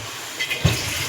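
Hot water poured into a pan of tribal-style village goat mutton chaap gravy, giving one short splashing gush over a low background hum.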